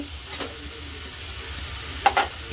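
Onion softened in a pan for an Arabic-style masala, stirred with a few soft scrapes and a brief clatter of the spoon over a low, steady sizzle.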